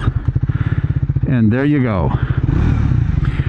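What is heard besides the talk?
Triumph Speed 400 single-cylinder motorcycle engine running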